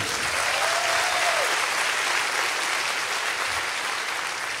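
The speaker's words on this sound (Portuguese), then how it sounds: "como podemos aplaudir pela vida dele?" An audience at a live motivational talk applauds in a dense, loud, sustained wash of clapping, with a brief whistle early on, and no voices over it.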